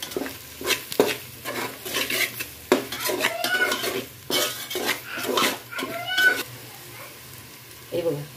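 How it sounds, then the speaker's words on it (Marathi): Vegetables are stirred and sautéed in oil in a pan for vegetable biryani, with repeated scraping and metallic clinks of a spoon against the pan over a light sizzle, while a cat meows close by. "आणि परत एकदा आपण चांगलं तेलामध्ये परतून घेणार आहोत."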